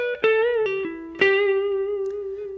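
Distorted electric guitar plays the opening lick of a guitar solo: a few picked notes, then sustained bent and held notes ringing with vibrato, loud and close with no talking.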